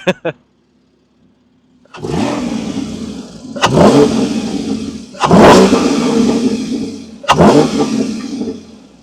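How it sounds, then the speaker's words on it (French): A car engine revs hard four times in succession, each a loud surging roar with audible intake noise that rises and then falls away, close to the microphone, after a brief quiet idle. "on a l'aspiration moteur qui se passe là"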